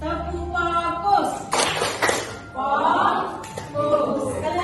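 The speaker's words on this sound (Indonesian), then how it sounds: "Oke, semuanya tepuk fokus." A school class claps out a rhythmic focus clap, producing a few sharp, close hand-clap bursts mixed with children's voices and classroom talk.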